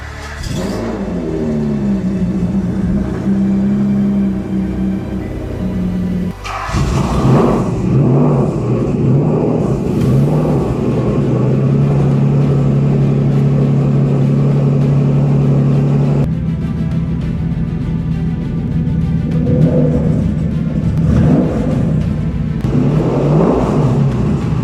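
A Pagani Zonda V12 engine starting and running for the first time, a steady loud rumble swelling into repeated throttle revs and falling back to idle, close and with no talk.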